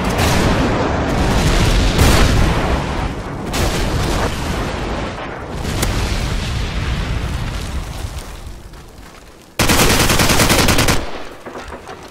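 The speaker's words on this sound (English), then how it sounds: "Friendly airstrike on the way." Loud, dense barrage of explosions and rapid gunfire in a Call of Duty 4 one-on-one match after an airstrike call, booming blasts rolling continuously with a sharp, heavy burst near the end.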